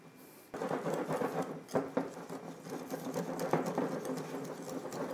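Caesar salad dressing without anchovies, with finely grated ingredients, whipped briskly in a bowl: a steady, busy scraping rattle runs close and continuous, with a few sharper knocks of the whisk against the bowl.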